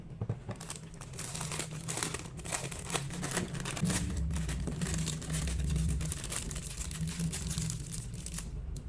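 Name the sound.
plastic piping bag crinkling while being filled with whipped cream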